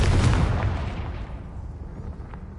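A Confringo fire spell in Hogwarts Legacy bursts with a loud, deep booming blast, followed by a rumbling tail that fades over about two seconds.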